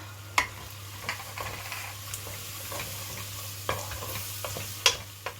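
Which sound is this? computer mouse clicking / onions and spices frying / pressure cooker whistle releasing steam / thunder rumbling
onions and spices frying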